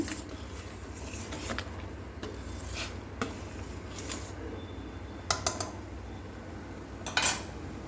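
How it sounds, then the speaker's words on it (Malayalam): A spoon stirring melting jaggery and tamarind in a pan, scattered scrapes and clinks against the metal over a soft bubbling background, close but quiet, with no talking. "നമുക്ക് പുളി ഇടയ്ക്കൊന്ന് ഇളക്കി കൊടുക്കണം, അടിയിൽ പിടിക്കാതിരിക്കാൻ"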